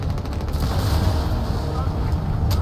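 A bazooka rocket fired in Crysis 2 Remastered, a heavy booming blast with rumbling low end filling the short stretch, a sharp crack near the end, under light game noise.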